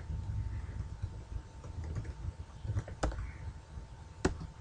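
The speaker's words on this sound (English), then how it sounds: "If we just type," A computer keyboard is typed on in a few sparse, quiet keystrokes, with two sharper clicks standing out against a low background hum and no talking.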